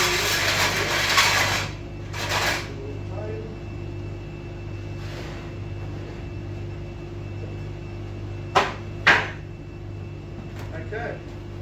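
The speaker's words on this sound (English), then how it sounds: "we'll move along to the planer" A wood planer hums steadily through an end grain cutting board build, with rasping bursts near the start and two brief sharp bumps later, while people talk over it.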